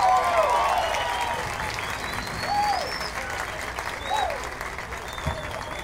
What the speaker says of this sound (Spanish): más fuertes las palmas